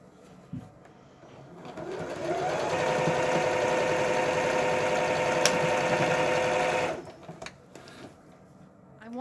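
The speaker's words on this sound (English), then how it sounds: "I'm going to sew from this corner up here down to this corner" A sewing machine stitches binding along a quilt edge in one steady, close whirring run of about four seconds, with soft handling noises before and after.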